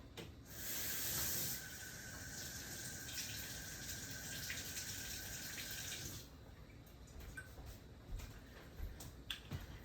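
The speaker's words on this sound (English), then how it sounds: "We're gonna add just a little bit of water, not much, but just a little bit." Water being poured or running into a cooking pan while making a quick stew stir fry with rice, a steady hissing pour lasting several seconds before stopping, followed by scattered faint clicks.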